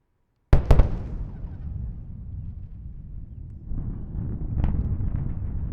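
Falcon Heavy side booster landing at a Florida landing zone after a Viasat-3 launch: two sharp, loud sonic booms in quick succession, followed by a sustained rumbling roar of the engine arriving after a delay.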